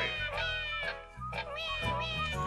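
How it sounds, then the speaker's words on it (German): Cat meowing in the video game WarioWare: Smooth Moves: a few short, bright cartoon meows layered over busy electronic game music. "Da ruhig, Katze."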